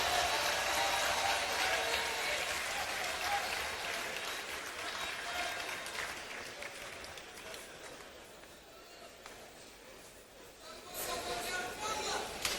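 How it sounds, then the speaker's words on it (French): An audience applauds the entrance of the National Assembly president at a political gathering. The clapping is a sustained, fairly loud wash that thins out in the middle and then swells again near the end. "Je voudrais qu'on applaudisse l'entrée du président de l'Assemblée nationale"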